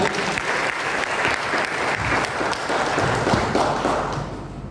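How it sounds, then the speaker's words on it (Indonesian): Church congregation at a Christmas service held in a hotel fills the room with loud, sustained applause, dense crowd clapping that holds steady before easing slightly at the end. "Kasih tepuk tangan untuk Tuhan."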